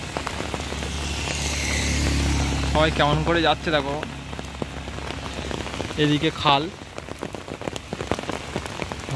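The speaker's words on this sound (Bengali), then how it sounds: "ভালোই জোরে বৃষ্টি হচ্ছে" Heavy rain pours onto a waterlogged road, a loud steady hiss of drops that carries throughout while someone speaks over it in the middle.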